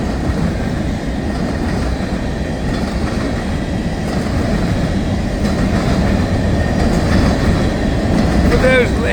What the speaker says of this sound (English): now we got another unit train